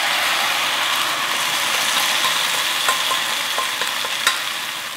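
Spicy Korean sundae-bokkeum being stir-fried with sauce in a pan, a loud steady sizzle with faint scraping clicks of stirring throughout, no voices.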